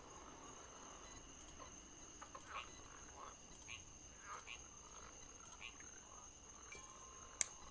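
Frog croaks from the video game Rusty Lake Paradise sound as soft, scattered calls over a steady high insect-like drone, with a sharp click near the end.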